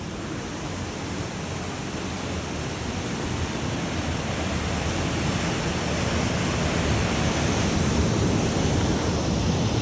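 Steady, dense rushing water roars continuously with no breaks, like a waterfall heard from close range; the Probiy waterfall in Yaremche, Ukraine.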